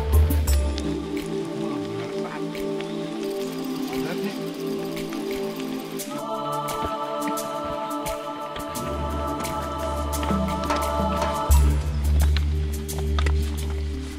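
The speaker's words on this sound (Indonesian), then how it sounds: "Lumayan lebat juga hujan pada waktu itu." Heavy rain pours during a hike on Mount Rinjani, a steady patter with scattered drips that continues throughout beneath a sustained tonal background.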